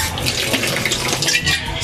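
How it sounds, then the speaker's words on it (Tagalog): Tap water runs steadily into a pot for cooking a Filipino egg soup with garlic and pepper, a close, continuous splashing gush filling the short stretch with no speech over it. "So ngayon, lalagay ako ng tubig."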